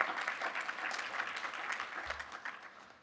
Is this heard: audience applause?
yes